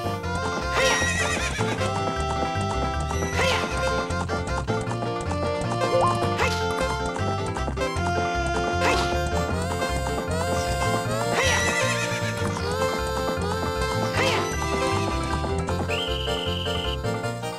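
Repeated horse neighs and whinnies ring out over busy game music with tonal layers, alongside clip-clopping hooves and some dog-like yips, in Zelda: Ocarina of Time Master Quest on GameCube.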